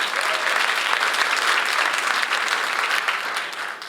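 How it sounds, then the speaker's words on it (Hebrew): Sustained applause from an audience at a farewell event for Eyal Betzer, a dense steady clapping that fills the whole stretch and eases slightly toward the end. "מגיע לו כפיים."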